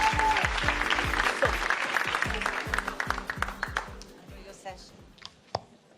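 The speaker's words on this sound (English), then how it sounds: "A big round of applause for Meera." Audience applause for an award recipient at a Changemakers 2025 women's awards event, steady dense clapping from a crowd that thins out and tapers into scattered claps toward the end.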